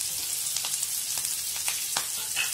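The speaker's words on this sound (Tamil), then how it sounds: "இது நல்லா எண்ணெயில் வதக்கிக்கோங்க." Onion, ginger, green chilli and curry leaves sautéing in hot oil with mustard seeds: a close, steady crackling sizzle with scattered pops and soft stirring scrapes.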